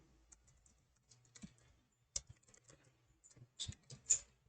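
Sparse, quiet taps on a computer keyboard as a project name is entered, irregular clicks with gaps between them in an otherwise silent room.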